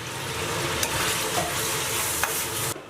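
Celery and garlic sprouts stir-fried with braised pork ribs and potatoes in a wok give a steady, close sizzle, with a few sharp scrapes of the spatula against the pan and the hiss cutting out abruptly at the very end.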